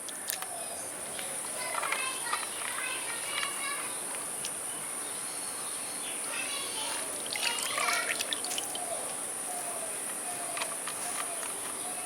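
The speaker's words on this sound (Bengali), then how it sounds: "রগড়ে জল ঝরিয়ে আমি আলুগুলো তুলে" Water trickles and drips steadily from washed potatoes being lifted out to drain for a village-style potato Manchurian, a soft continuous dribble with faint splashes and a constant high background whine.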